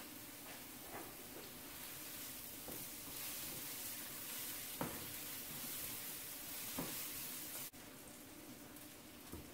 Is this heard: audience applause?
no